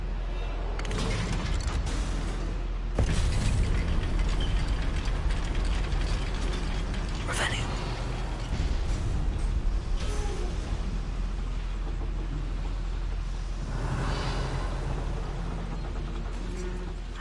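Goblin mine lift mechanism in a Hogwarts video game, grinding and ratcheting steadily for the whole stretch with creaks and clanks over a low rumble, no voices.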